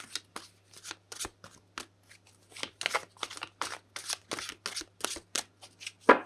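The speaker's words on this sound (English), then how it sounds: "I'll just shuffle one more time." A run of rapid, papery tarot card shuffles, repeated in bursts with short pauses, close and fairly crisp over a low steady hum.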